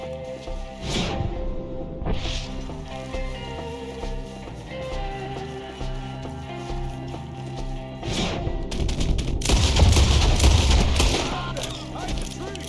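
Red Dead Redemption 2 gunfight: scattered rifle and pistol shots crack over a dramatic in-game score, building into a dense, loud volley near the end, with shouted voices at times.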